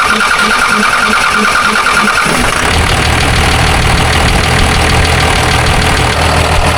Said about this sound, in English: Well, it starts up. It sounds good.